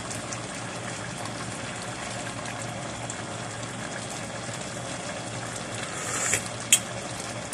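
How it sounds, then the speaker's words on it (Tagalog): A pot of pinakbet vegetable stew bubbling at a steady boil, a continuous simmering hiss and burble, close by, with a brief clink near the end. "Kumukulo-kulo na yung ating pinakbet."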